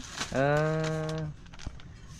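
A water buffalo lets out a single loud, close moo lasting about a second, with a steady tone. Quiet rural background noise follows.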